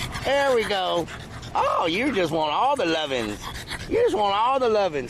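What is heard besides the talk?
dog panting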